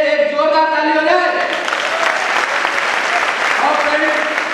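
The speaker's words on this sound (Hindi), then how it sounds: "तो आज उन्हीं पर्सनैलिटी के लिए एक जोरदार ताली हो जाए" An audience at an achievers' function in Kanpur breaks into loud applause while a voice is still talking at the start, the clapping building into a dense, sustained roar.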